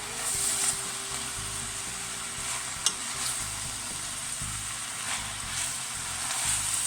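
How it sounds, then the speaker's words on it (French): Swiss chard frying in a pan while being stirred, a constant close sizzle with soft scraping strokes and one sharp utensil tap, alone without talk. "Et vous remuez"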